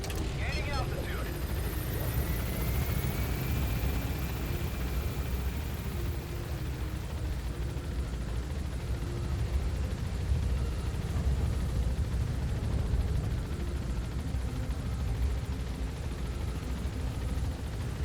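A helicopter in Metal Gear Solid V climbs with a steady, loud, continuous rotor and engine roar that fills the whole stretch without letting up.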